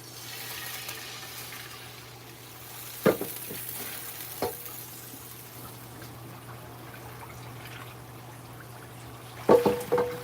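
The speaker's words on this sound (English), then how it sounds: "I need to rinse out my pan" Water trickles and splashes into a frying pan as it is rinsed out in a home kitchen, a low steady wash with a few sharp clanks of the pan, close and without voices.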